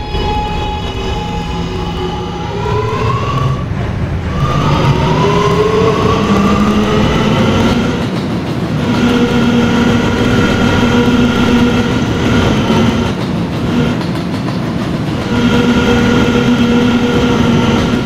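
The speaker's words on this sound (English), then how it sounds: "This is a 74th Street bound R train." A subway train runs in the Roblox PTA Subway game on an R line, with a steady low rumble and rising and falling motor whine tones, continuous and loud with no talk.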